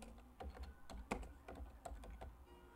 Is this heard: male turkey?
no